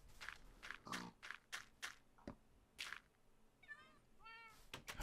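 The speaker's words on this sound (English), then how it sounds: "Those noisy cats." Several short Minecraft cat meows pop up one after another with thuds and clicks between them, fairly close and a little artificial, with no talking.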